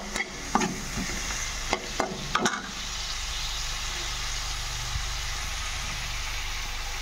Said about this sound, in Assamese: আৰু অলপ ভাজি ল'ম।